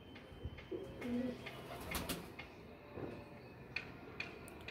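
Lakha pigeons coo in a low, rolling call, a few soft phrases close by, with scattered light taps and clicks around them.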